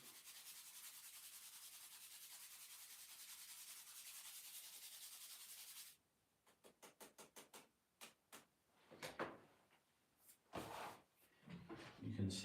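A wad of sandpaper rubs a stick of charcoal across a surface in a run of short, rhythmic scratching strokes, close and distinct, after several seconds of steady broadband hiss.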